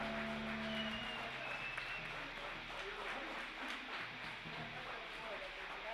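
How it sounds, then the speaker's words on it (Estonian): Audience applause at the Järva-Jaani Kevadrock 2019 rock festival, a dense, steady wash of clapping from a large crowd with a faint low music tone fading out at the start. "teeme aplausi miljoni mängijale!"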